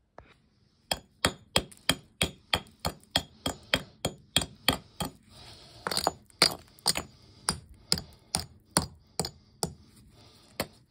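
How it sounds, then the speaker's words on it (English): Rough cement is chipped off a garden wall in a Portugal house, a sharp tool striking it in a quick series of hard, close, evenly spaced impacts. "So just chipping off all these bits of rough cement that are on the walls."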